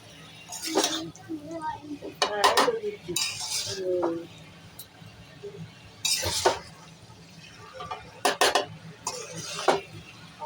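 Young jackfruit and spices being stirred together in a small kadai, with repeated clinks and scrapes of a spatula against the pan in irregular bursts at close range.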